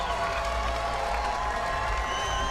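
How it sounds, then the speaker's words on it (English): Crowd at a women's street skateboarding contest cheering and clapping in a steady, loud roar with no pauses. "The crowd is going bonkers here."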